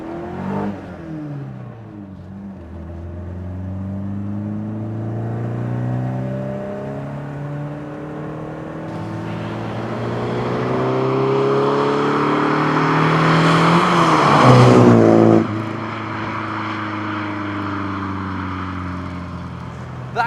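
BMW 2002tii classic car with fuel injection and throttle bodies, its engine revving and pulling through rising gears while driving, loud and close, with no talking over it.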